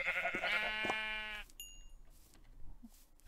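A Minecraft sheep gives a clear, near bleat lasting about a second and a half, followed by quieter game sounds and a short high chime.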